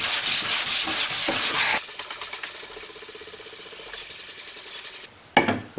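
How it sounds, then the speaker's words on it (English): Hand sanding of small wooden knife block pieces: brisk back-and-forth strokes of sandpaper rasping on wood, loud and close at first, then a quieter steady rub, with one last short scrape at the end. "had to go at sanding one by hand"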